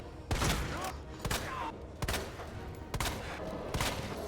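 Rapid, loud gunshots from the video game Resident Evil 2, several sharp cracks spaced roughly a second apart over steady background game noise.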